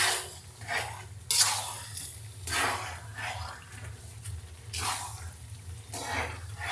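Spiced olive pickle stirred in a pan, with a spoon scraping and sloshing in repeated strokes over a steady low sizzle, close by.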